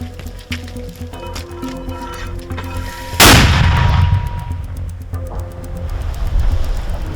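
A mortar round bursts at close range in a war zone near Bakhmut, a sudden loud blast that rolls into a long rumbling decay over steady background noise.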